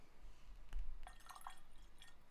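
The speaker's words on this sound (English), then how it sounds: "let's pour some water in here" Water trickles briefly into a glass of Teeling Blackpitts peat-smoked Irish single malt whiskey, a quiet, close splash and a few bright drips over a low background hum.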